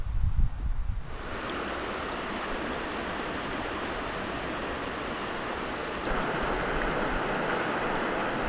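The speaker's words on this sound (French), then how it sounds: "On entend un peu les vagues" Ocean waves at the water's edge along the Gros-Morne coastal trail in Newfoundland, a steady close wash of surf with wind rushing over the microphone, continuous and fairly loud with no voices.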